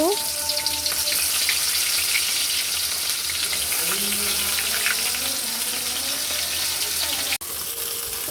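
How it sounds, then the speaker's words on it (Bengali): Onions fry in hot oil in a pan, giving a loud, steady sizzle that runs unbroken throughout, with a brief sharp knock near the end. "এবার পেঁয়াজগুলোকে ভেজে নেব"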